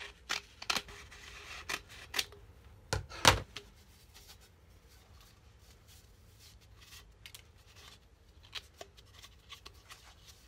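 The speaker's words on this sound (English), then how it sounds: "So we're going to keep using scissors." Several sharp scissor snips cut through grass paper, clustered early with one loud close crunch, then fainter scattered snips and rustling later.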